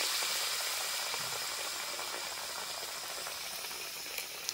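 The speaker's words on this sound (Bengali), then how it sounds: "একটা করে তেলের মধ্যে ছেড়ে দেব।" Bread slices stuffed with potato and dipped in thick batter frying in hot oil, a steady, dense bubbling sizzle heard up close and continuously, with no voices over it.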